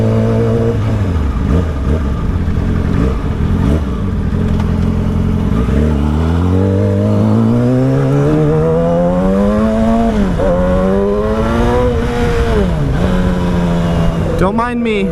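A Yamaha 600cc motorcycle engine under way, its pitch climbing and dropping through repeated revs and gear changes, loud and continuous throughout.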